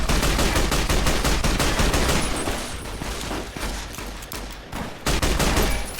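Gunfire in the video game Fallout New Vegas during a Legion fight, loud and continuous rapid shots and bursts that fill the whole stretch, with only brief dips.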